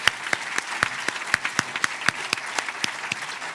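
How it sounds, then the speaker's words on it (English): An audience at a pub talk event applauds with a steady mix of clapping and a few sharp, rhythmic claps standing out close by, lasting a few seconds. "Let's give everybody a round of applause before we go out"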